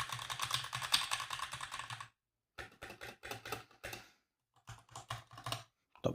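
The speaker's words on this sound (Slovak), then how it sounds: "takýto má zvuk má klávesnica." Fast, close clicking of a laptop keyboard comes in several bursts of typing separated by short silent pauses, with no talk over it.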